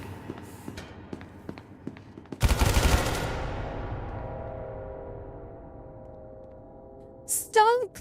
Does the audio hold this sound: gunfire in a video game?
yes